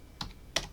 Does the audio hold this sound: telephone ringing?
no